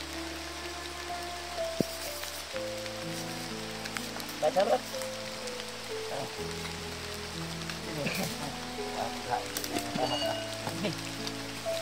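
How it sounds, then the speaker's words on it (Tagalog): Heavy rain falls in a rural Filipino setting as a quiet, steady patter, heard under scattered voices, low hums and occasional knocks. "Ito, malakas pa rin yung ulan doon."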